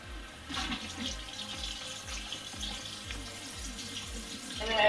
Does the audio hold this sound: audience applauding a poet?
no